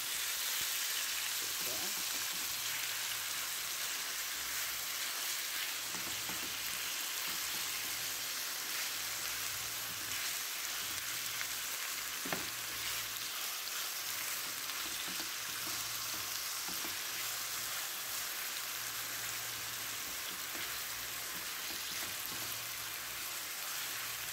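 Marinated chicken breast pan-fries in hot oil, a continuous, even sizzle that holds steady throughout with occasional faint clinks and crackles.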